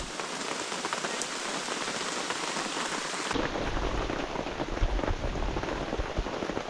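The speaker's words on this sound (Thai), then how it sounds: "ฝนตก ไป หมด" Steady rain falls continuously, a dense hiss of drops hitting surfaces that grows fuller and heavier midway through, with no voices.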